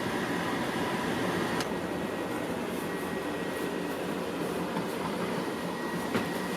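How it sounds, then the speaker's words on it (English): Pasta water for rigatoni drains from a pot in a home kitchen, a steady broadband rushing pour held at even loudness with a brief clank near the start and another near the end. "Now I'm going to drain my pasta."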